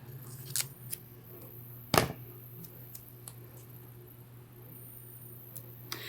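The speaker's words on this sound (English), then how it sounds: "Scissors." A few sharp scissor snips through paper, one louder cut standing out among quieter clicks, close up over a low steady hum.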